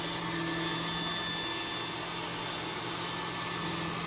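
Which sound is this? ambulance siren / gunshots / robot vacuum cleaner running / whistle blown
robot vacuum cleaner running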